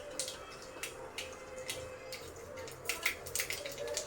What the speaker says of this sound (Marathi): अगोदर मोहरी तडतडली की जिरं टाकूयात.